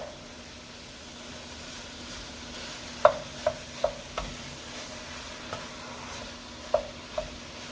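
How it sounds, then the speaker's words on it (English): Two pounds of 80/20 ground beef sizzle steadily in a pan while being cooked for goulash, with a few sharp utensil clinks and scrapes rising over the continuous frying hiss. "I'm going to cook this ground beef"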